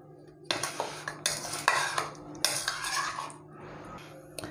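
A utensil beats eggs with spices in a bowl, producing close, rhythmic bursts of clinking and sloshing in three or four strokes, then a quieter tail.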